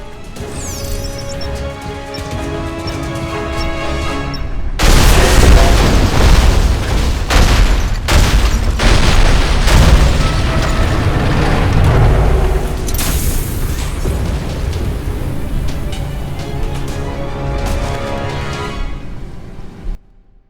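A pumping station blows up in the sci-fi shooter Alien Rage: a loud, sustained explosion with repeated booming crashes and debris for about fifteen seconds, dying away at the end, after a quieter stretch of game ambience.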